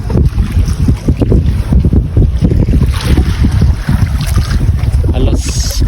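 Strong northeast monsoon wind roars across a fishing boat at sea, a constant loud buffeting rumble of gusts hitting the microphone, with waves churning and the boat's motion underneath.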